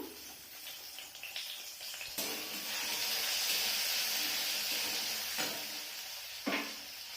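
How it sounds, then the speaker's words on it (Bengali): Grated ginger sizzles loudly in hot oil in a wok for veg momo filling, a steady hiss swelling after a sharp drop-in with brief scraping stirs, no voices. "আমার তেল তেতে গেছে, আমি একটু আদা ঘষে দিচ্ছি"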